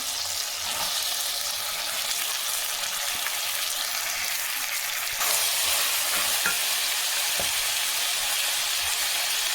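Field beans fry in hot oil with tomato and potato for a masala curry, giving a constant bright sizzle with occasional soft scrapes as the pan is stirred, close and without talk.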